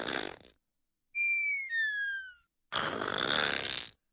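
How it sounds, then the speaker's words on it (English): A porcupine snoring, with breathy wheezing bursts broken by a high, sliding whistle-like squeak, repeating in a slow in-and-out rhythm, close and fairly clear. "This is what a snoring porcupine sounds like."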